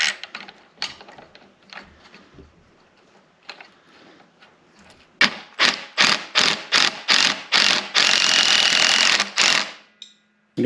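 A ratchet wrench tightens the brake pedal bolt on a Yamaha WR250R motorcycle, first slow scattered clicks and then a loud, rapid run of close ratcheting bursts that ends in a sustained stretch of clicking.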